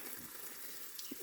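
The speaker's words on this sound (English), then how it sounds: "You could water those dead plants." Water running steadily in a garden as dead plants are watered, a continuous hissing stream with faint splashes, fairly quiet and close.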